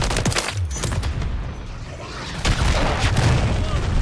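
A cruise missile explodes in Call of Duty: Modern Warfare 3 amid ongoing gunfire. Loud booming impacts and rattling shots build into a heavy blast near the end.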